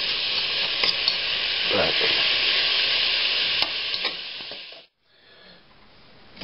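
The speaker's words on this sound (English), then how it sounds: "Now we've browned the mince kind of." Minced beef for a chilli sizzling loudly in a hot pan while being stirred, a steady close hiss with occasional scrapes, before the frying cuts out near the end; a brief word is spoken.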